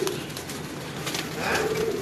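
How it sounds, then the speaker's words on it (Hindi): Flying pigeons in a loft coo softly and repeatedly, a low burbling call over a steady background hum, with faint indistinct voices. "ये इनके परवाजी कबूतर हैं।"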